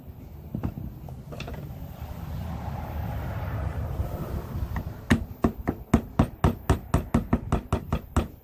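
Sharp metallic hammer taps on a drill part to drive it out, a steady series of about a dozen close, loud knocks in the second half after a stretch of quieter handling noise.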